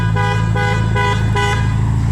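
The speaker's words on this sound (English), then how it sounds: "Honks at you to let you know the key fob is left the vehicle" A 2021 Ferrari Portofino M's horn sounds in a few short, repeated toots over a steady low engine hum, fairly close and loud, with no talking, signalling the key fob has left the car.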